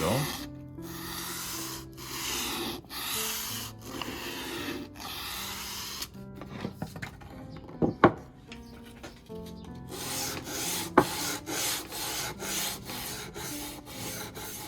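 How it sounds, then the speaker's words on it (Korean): Hand sanding along the edges of birch plywood, steady rhythmic rasping strokes close to the microphone, with a short pause of lighter scraping and taps midway before the brisk back-and-forth strokes resume. "이 샌딩 작업에는 반드시 먼지가 수반됩니다"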